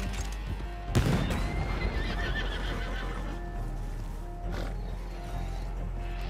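A loud horse whinny in a video game rings out near the start, followed by a quieter neigh later, over a steady background hum.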